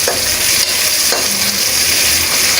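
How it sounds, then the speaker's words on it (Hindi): Green chillies and sliced onions frying in a pan and being stirred while they brown for achari bhindi, giving a steady, close, loud sizzle with occasional scraping stirs throughout and no voices. "इस तरह लाइट ब्राउन हम हरी मिर्चों को भी ब्राउन कर देंगे प्याज के साथ।"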